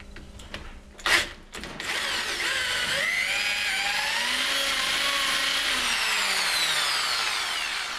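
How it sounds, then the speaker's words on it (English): A few knocks and clatters, then a power drill with a 10mm bit runs steadily for several seconds, its whining pitch sliding slowly as it bores through a metal screw. "Now with this 10 millimeter drill, I'll make a hole right through."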